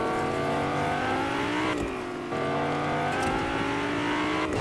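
Video-game car from Cars drifting, its engine holding a steady, loud revving whine with shifting pitch for several seconds and a brief dip midway.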